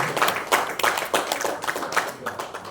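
Meeting participants at a focus group discussion in Pontianak, West Kalimantan, give a short round of applause, rhythmic hand claps close by and moderately loud, with faint voices mixed in.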